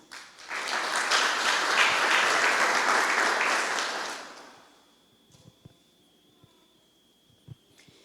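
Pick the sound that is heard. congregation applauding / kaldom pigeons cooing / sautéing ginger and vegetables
congregation applauding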